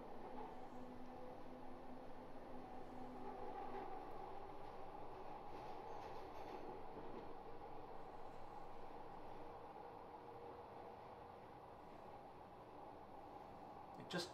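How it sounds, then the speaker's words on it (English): Glasgow Subway train on the Inner Circle, heard from on board as it slows under automatic braking, a continuous low rumble with a faint tonal whine and wheel noise, steady and moderately quiet throughout. "It just feels like I'm almost braking the train."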